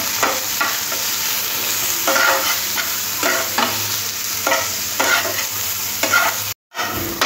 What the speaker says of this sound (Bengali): দিয়ে ভালো করে একটু ভেজে নিতে হবে।